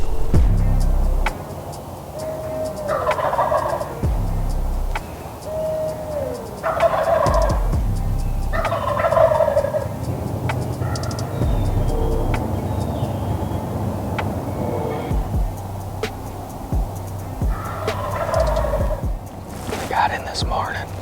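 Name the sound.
wild turkeys gobbling on the roost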